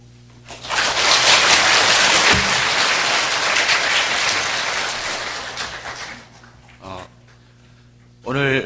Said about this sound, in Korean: 저희가 모두 박수로 화답하려고 합니다.